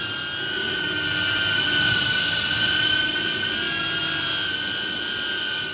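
A DJI Neo drone fitted with Gemfan D51-5 five-bladed propellers hovers close by, giving off a steady, loud, high-pitched whine with a sharp tonal hum that holds evenly throughout.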